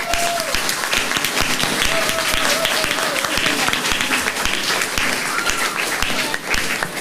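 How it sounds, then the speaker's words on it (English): An audience at an inter-primary schools quiz competition on Anguilla Day applauds students with steady, dense clapping that fills the whole stretch, and a voice is faintly audible beneath it. "our students are deserving of a big round of applause."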